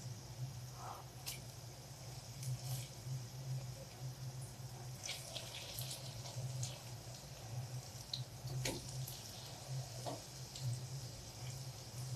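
Egg pancakes with herbs, sausage and cheese fry in a covered pan, giving a steady, even sizzling hiss with faint scattered pops and a low hum beneath, no voices.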